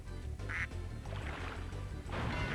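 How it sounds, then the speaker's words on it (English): Duck targets quacking in the Spyro 2: Ripto's Rage shooting gallery video game; several loud, nasal cartoon quacks over a steady game music and effects bed, with short pauses between calls. "And the first set is ducks."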